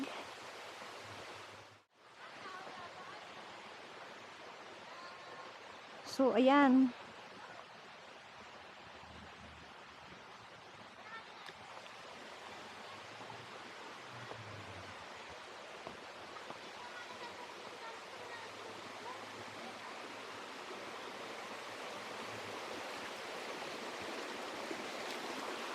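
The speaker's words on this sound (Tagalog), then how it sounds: "Oh, ang lakas ng tubig." Rushing stream water pours steadily at Bride's Pool, a strong, continuous broadband roar close by, with a brief spoken remark near the start.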